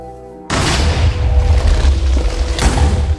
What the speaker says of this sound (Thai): ระเบิดแน่นอนนั่นไงว่าแล้ว